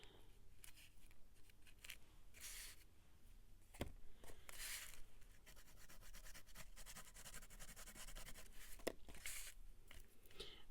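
Quiet, close scratching and rubbing strokes of a pencil on paper, irregular short strokes continuing throughout with no voices.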